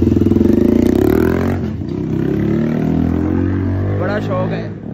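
A cafe racer motorcycle is ridden at full speed, giving a loud, steady engine drone with wind rush that holds level throughout.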